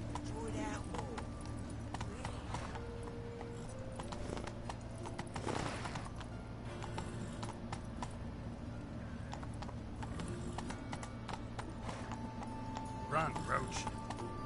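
Roach the horse gallops in The Witcher on PS4, with steady clip-clop hoofbeats running under a constant game soundscape and occasional voice.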